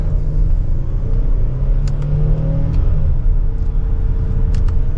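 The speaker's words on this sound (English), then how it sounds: "And mild acceleration, we are up to speed." A 2024 Hyundai Palisade Calligraphy AWD accelerating in sport mode, second gear, heard from the cabin as a steady, loud engine and road rumble with a slight rise in pitch. No one talks.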